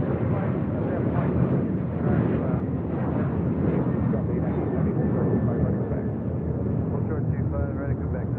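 An American Airlines Boeing 737-800, flight 1292 bound for Nashville, takes off at LAX, producing a steady, loud, broadband jet roar that fills the whole clip while people talk over it.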